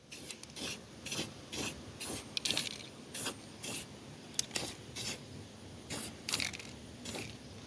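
Aerosol spray paint hisses onto a two-stroke mower in about a dozen short, separate bursts, close and moderately loud, with quiet pauses between them.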